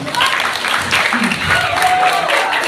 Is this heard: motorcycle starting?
no